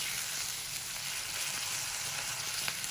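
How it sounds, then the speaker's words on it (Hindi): Minced meat sizzles steadily in a pan for qeema kachori, a continuous close crackle of frying with no voices over it. "इसको अच्छे से भून लेंगे"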